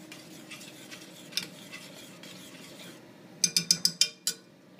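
Ground beef cooking in a hot pan, a soft sizzle and scraping stirs giving way to a quick run of six sharp utensil taps against the pan, close and fairly quiet.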